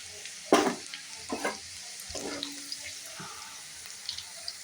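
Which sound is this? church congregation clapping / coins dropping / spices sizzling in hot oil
spices sizzling in hot oil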